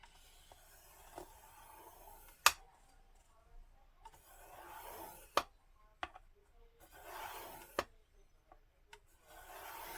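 Quiet scraping and rubbing as a fold line is scored into the paper cover of a composition notebook, with a few sharp clicks and taps scattered through the faint strokes.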